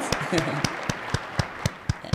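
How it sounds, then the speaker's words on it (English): Evenly spaced hand claps, about eight in two seconds, in a steady rhythm with a voice murmuring underneath. "A big round of applause for your president and your government."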